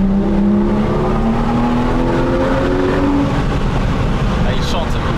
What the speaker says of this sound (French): Ah, il chante ce moteur.